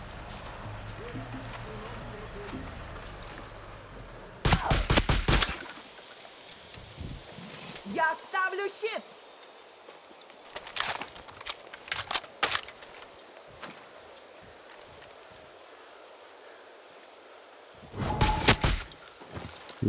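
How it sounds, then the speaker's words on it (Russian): Far Cry 6 gunfire in loud rapid bursts, one early and one near the end, with scattered shots and game noise between. "Один выстрел, один труп."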